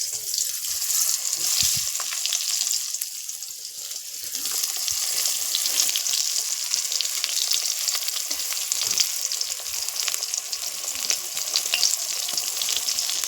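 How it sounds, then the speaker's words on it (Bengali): Brinjal (eggplant) pieces fry in hot oil with a steady, bright sizzle and crackle that carries on evenly throughout, close up and without speech. "বেগুনটা ভাজা হতে থাক।"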